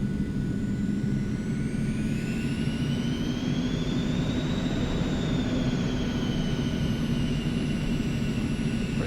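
Steady, loud aircraft engine drone from a small general aviation plane slowing and taxiing off the runway in the X-Plane 11 flight simulator, with a rising and falling whine over the continuous low rumble.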